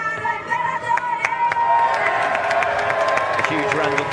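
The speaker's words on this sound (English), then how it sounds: "A huge round of applause for Emanuele Peratone" Crowd at a Paralympic para snowboard banked slalom finals event in Italy cheering and applauding a 39-year-old Italian snowboard gold medalist, a steady dense roar with scattered claps and shouts throughout.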